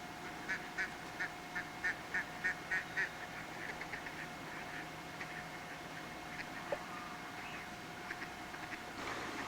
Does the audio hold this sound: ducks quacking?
yes